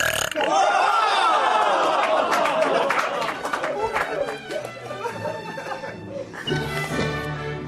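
A long, loud, croaking burp in a burping contest rolls on for several seconds, then a crowd chatters and laughs around it.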